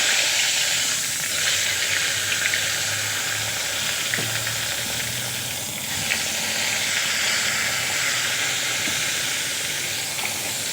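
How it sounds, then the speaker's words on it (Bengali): Pieces of eggplant fry in the oil left from frying hilsa fish, giving a loud, continuous, close sizzle and hiss with no talking. "মাছ ভাজার তেলের মধ্যে আমি বেগুন ভেজে নেব।"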